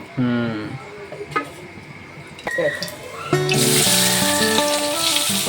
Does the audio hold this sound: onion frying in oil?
yes